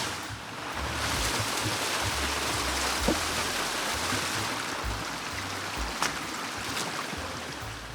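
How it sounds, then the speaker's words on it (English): Steady rushing water pours continuously, a small cascade splashing close by with a constant broadband roar and a couple of faint clicks. "There's a lovely little waterfall here."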